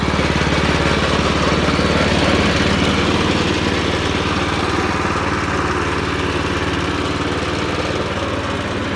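An old Japanese Kubota 13 hp riding lawn mower idles steadily at low revs while cutting grass, a continuous close rumble with a constant throbbing drone throughout and no rise in speed.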